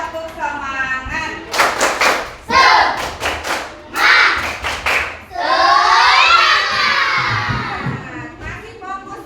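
An Indonesian class does the rhythmic tepuk semangat spirit clap, sharp clustered claps in a patterned beat with children shouting and chanting along, then a long sustained cheer.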